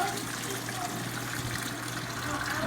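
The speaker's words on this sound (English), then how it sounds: "I'm just going to slowly pour it in here, because all the impurities should get caught by the cheesecloth" Melted beeswax and water poured slowly through cheesecloth make a steady, close trickle, running unbroken over a low background hum.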